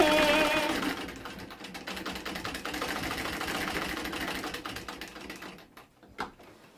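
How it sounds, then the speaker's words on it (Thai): A sewing machine stitches a small pocket of curtain-fabric scraps onto the chest of an apron, a fast continuous mechanical whir that fades out near the end. "มาเย็บแปะด้านหน้าอกให้เป็นกระเป๋าด้านหน้านะคะ"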